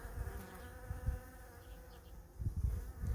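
Bees buzzing around flowers while collecting pollen on a countryside trail in Culross, Fife, Scotland; a faint steady hum with a few louder passes nearby, no talking.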